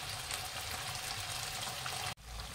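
Chicken frying in a pan over a low-medium flame gives a steady, dense sizzle that holds level throughout, with a brief dropout near the end before it resumes.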